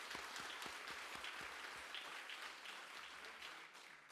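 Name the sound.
audience applause for Amy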